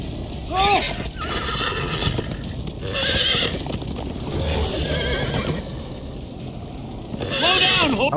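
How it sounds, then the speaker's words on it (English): Horse in the game Minecraft Story Mode whinnies several times, with rising and falling neighs at the start, middle and end, over clip-clopping hooves and music, with a voice talking throughout. "Come on, horse."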